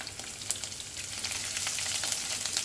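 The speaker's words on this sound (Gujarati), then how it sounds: "લસણ બરોબર સતરાવા દઈશું." Garlic cloves sauté in hot oil with cumin and asafoetida, giving a steady, soft crackling sizzle with small pops, close up and with no talking.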